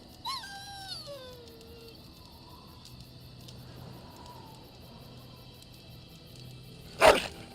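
A dog in the video game Dragon Age: Origins gives a drawn-out, falling whine-like bark near the start, then a low ambient game backdrop follows, ending with a short sharp burst.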